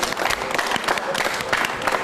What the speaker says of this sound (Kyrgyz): Кол чабуулар менен анда биз Өмүрбек мырзаны узатып коелу